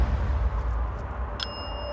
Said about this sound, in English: I know you're ringing that bell to get my attention.